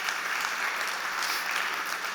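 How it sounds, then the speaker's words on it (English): An audience at a startup pitch competition breaks into a brief, loud burst of applause, dense and continuous from start to finish. "Big applause for DK,"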